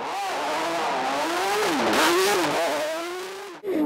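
A Peugeot rally car nicknamed MC2, running a 3.5-litre Renault V6 race engine, launches off the start line with a loud, sustained rising engine howl, pitch sweeping up through the gears before cutting off abruptly near the end.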